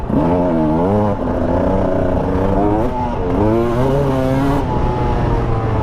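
Husqvarna TE300 two-stroke motorcycle ridden uphill in third gear, its engine buzzing loud and close with rising and falling revs as the throttle opens and eases, continuous throughout with no talk.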